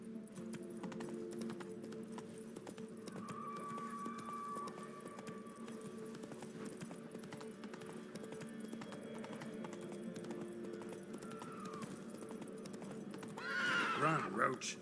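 Geralt's horse Roach from The Witcher 3 trots along with faint steady hoofbeats under game ambience and a voice, then lets out a loud whinny near the end.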